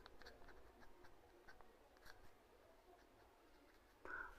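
A pen scratches across paper during a Class 10 maths lesson, heard as faint, close, irregular strokes and taps, with a louder rustle at the end.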